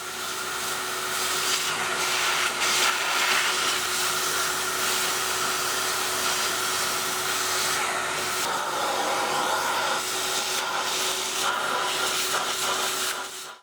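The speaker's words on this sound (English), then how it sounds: "The first job was to get out the hoover, as the table was covered with some particularly nasty looking spider webs." A hoover runs continuously, sucking nasty spider webs off the surface of an Edwardian side table with cane panels, a steady close airy roar with a constant whine and scraping rustles as the nozzle moves over the wood.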